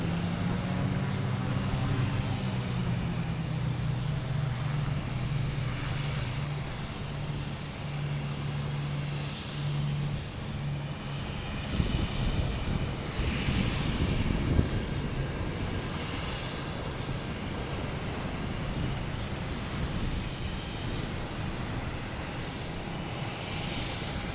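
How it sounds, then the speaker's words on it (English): An American Airlines Airbus A321 takes off at Logan Airport, a sustained broad engine roar that swells in the middle and then holds steady, heard from outdoors at some distance without talk. "we have American Airlines taking off. Heading to LAX on a A321"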